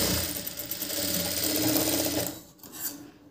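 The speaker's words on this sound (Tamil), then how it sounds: "இப்போது இந்த சைடில் இன்னொரு தையல் போட்டுடலாங்க." Sewing machine stitching a sleeve seam in a tailoring workshop: fast, steady mechanical whirring and chattering close by, running for about two seconds before stopping, then a brief restart.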